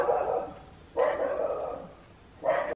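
A dog at home indoors gives three loud, close barks, the first two about a second apart and the third after a longer pause, with no talking.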